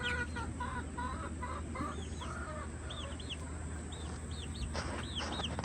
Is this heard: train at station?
no